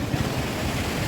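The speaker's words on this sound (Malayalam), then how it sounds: "ഇതട്ടോ ഡാമിന്ന് വെള്ളം ഇങ്ങനെ പുറത്തേക്ക് ചാടുന്ന കാഴ്ചയാണ്." Water gushing out of the small Kundala dam, a brief, loud, continuous rumbling roar of churning water with some wind buffeting, and no one talking.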